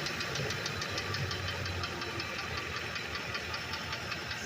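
A Ford Econoline E350 5.4 van engine idles close by, a steady mechanical drone with a rapid, even knocking rattle running throughout.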